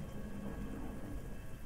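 Steady rain with a low rumble of thunder in the horror video game Deadly Premonition, a dense continuous wash of falling water with deep bass underneath, even in level and without voices.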